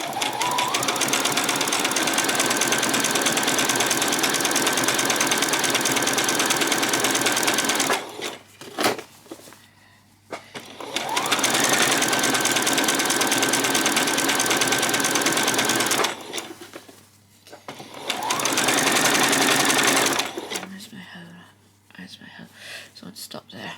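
A sewing machine stitches around a peasant skirt in three long, steady, close runs of whirring, broken by brief pauses.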